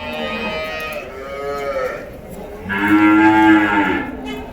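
Cattle at the Vaniyambadi cattle market low loudly and nearby, with one long moo followed by a second, fuller one after a short pause, over faint market background noise.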